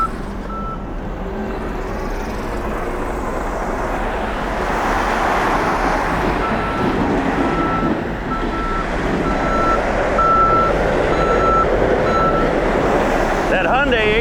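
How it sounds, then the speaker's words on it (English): Reversing beeps from a Hyundai HT100B loader fitted with Blue Diamond nursery forks, a steady evenly spaced series of tones over a loud continuous engine drone at an outdoor boulder wall building competition. "That Hyundai HT100B works really well with those Blue Diamond nursery forks."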